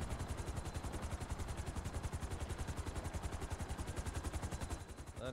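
A helicopter in the video game GTA 5, steady rapid rotor thumping close by with an even fast beat that continues without pause and shifts slightly in tone near the end, no voices.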